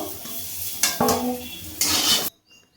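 Metal utensils scrape and clink against a pan as fried pointed gourd and potato pieces are lifted out of hot oil, with a faint sizzle underneath and a few sharper knocks before it falls quiet.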